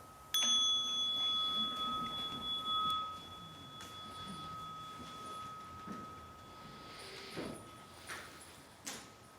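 A small bell struck once during a Buddhist ceremony at a New Year's celebration rings out clearly near the start, then its bright tone hangs and fades slowly over several seconds in a quiet room with faint shuffling.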